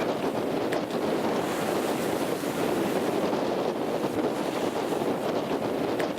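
Steady wind roaring across a sailing yacht at sea during squalls, with waves washing against the hull and gusts buffeting close by, continuous and loud throughout with no voices.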